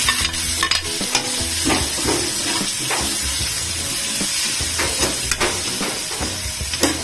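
Garlic and onions sautéing in a little oil for arroz caldo, a loud steady sizzle with sharp crackles and pops as the pan is stirred, no talk.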